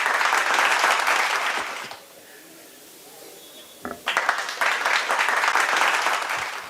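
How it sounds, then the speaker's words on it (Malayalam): An audience claps warmly for prize winners at an arts prize distribution ceremony, loud sustained applause that stops, leaves a quiet gap with a brief knock, then resumes strongly and continues to the end. "നല്ലൊരു കയ്യടി"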